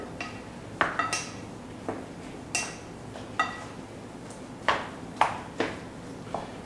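Bread stuffing for a Thanksgiving meal is tossed in a mixing bowl, giving a series of light, sharp clinks and knocks of a utensil against the bowl at an irregular pace, fairly quiet and close with no talking.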